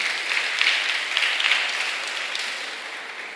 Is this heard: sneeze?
no